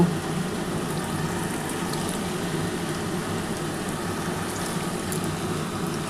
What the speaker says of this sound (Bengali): এই কটা আগে ভেজে নিই বন্ধুরা, ভেজে তারপর পুরোটা কমপ্লিট হয়ে গেলে আমি তোমাদের দেখাবো